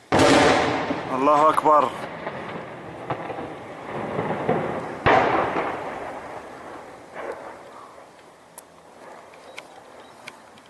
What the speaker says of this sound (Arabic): قصف عنيف على معرة نعمان، على المشفى الوطني